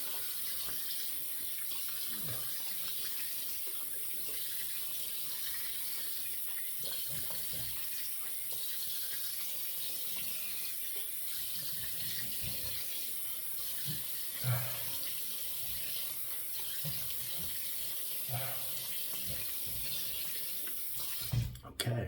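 Tap water runs steadily into a sink while a razor is rinsed under it, a continuous close wash with a few brief knocks near the end.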